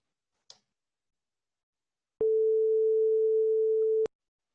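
A synthesized single sine-like note, steady and unchanging like a telephone dial tone, sounds alone for about two seconds after a faint click, loud and close with abrupt start and stop.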